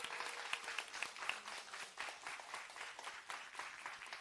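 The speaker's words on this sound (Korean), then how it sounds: "박수로 모시겠습니다" Steady applause from an audience fills the space as the director is welcomed on stage at a Korean TV drama press launch, a dense, even wash of many hands clapping at a distance.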